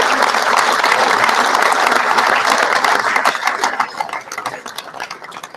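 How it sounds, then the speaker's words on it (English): A crowd claps loudly and steadily, the applause thinning out toward the end as it fades. "Please give a round of applause to Mark Beeline,"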